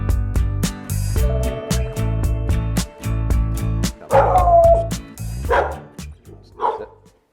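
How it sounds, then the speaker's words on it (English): A dog barks at a stranger repeatedly in sharp, rhythmic bursts over steady background sound, ending with a few yips and whimpers. "So that's the stranger danger bark."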